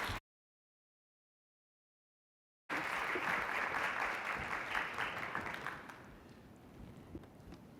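An audience applauding a speaker at a podium during a talk on clinician well-being: after a brief silence, a room full of steady clapping rises, holds for a few seconds, then thins and fades.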